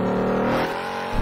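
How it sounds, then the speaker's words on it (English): Hennessey Mammoth truck driven fast around a track, its engine giving a loud, steady, rising roar under hard acceleration, close and dominant with no talking. "And the noise from the engine."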